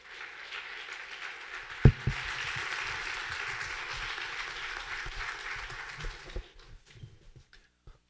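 Clapping from a church congregation during a service, a dense patter of many hands heard from a distance for several seconds that thins out into a few scattered claps toward the end.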